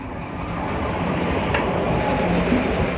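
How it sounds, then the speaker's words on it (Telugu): A MEMU express train rolls slowly on the Narasapur to Rajahmundry line, an even rumbling drone with faint clatter and a light wheel squeal, heard from on board. "మన ట్రైన్ అయితే స్లోగా వెళ్తుంది"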